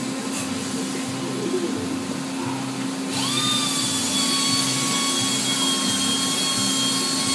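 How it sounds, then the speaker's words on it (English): Mazak CNC lathes and mills run along a production line in a machine shop, giving a steady mechanical hum that turns into a sustained tonal whine partway through. No voices are heard. "This shows a view down through our main production line, all of our CNC lathes,"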